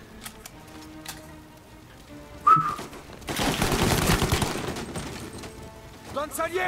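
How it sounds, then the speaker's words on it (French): Sustained gunfire bursts in the Mafia Definitive Edition video game, a dense rattling barrage lasting several seconds, preceded by a sharp whistle-like tone and scattered clicks. "il continue de tirer"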